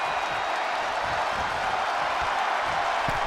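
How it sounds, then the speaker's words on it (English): Raucous arena crowd cheering during a WWE 2K20 NXT Takeover Blackpool wrestling match, a steady dense roar of voices and applause filling the space with no breaks. "What a raucous crowd here tonight"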